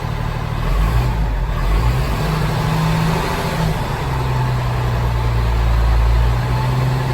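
A truck engine runs loud and close, its steady idle rising as the throttle is given some gas, then holding at a higher rumbling pitch.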